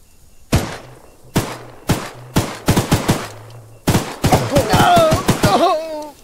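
A gun fires in Choo Choo Charles: spaced single shots at first, then a faster burst of loud, close gunfire toward the end, with a voice briefly audible over the last shots.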